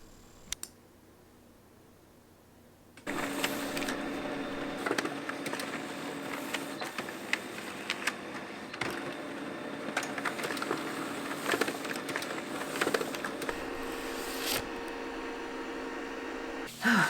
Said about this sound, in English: I'm going to just print it in black and white on my laser printer.